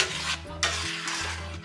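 Raspberry jam boiling hard in a pot on a high burner is stirred with a spoon, giving a close, continuous bubbling sizzle with soft scraping strokes against the pot.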